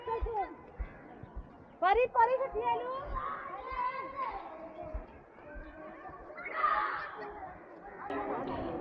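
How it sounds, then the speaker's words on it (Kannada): Children shout and chatter while playing in a park nearby, lively voices rising and falling with a few bouncing thumps, as a dog barks. "ಮಕ್ಕಳೆಲ್ಲ ಆಟ ಆಡ್ತಿದ್ದಾರೆ"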